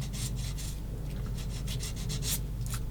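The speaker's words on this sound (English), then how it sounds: "Just trying to let the sanding stick do it without me mucking about." A sanding stick rubs against a small plastic part of a 1/16 scale M10 IIC Achilles model tank, making a quiet run of rhythmic rasping strokes, close up and alone.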